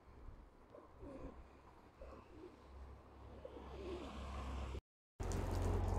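A pigeon coos close by on a park bench, soft repeated low calls over steady outdoor background noise, with a brief dropout near the end.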